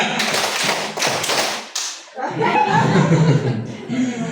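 A class of students claps in a counted rhythm game, several sharp group claps close by, then a looser patter of hands mixed with chuckles and chatter.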